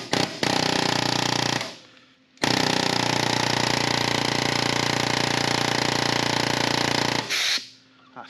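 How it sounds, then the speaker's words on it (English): An air chisel hammers against a rubber axle bushing in two long, loud, rapid pneumatic bursts, the first about two seconds and the second about five, with brief quiet gaps between. "using an air chisel on rubber is normally just doesn't work, because the rubber just absorbs it"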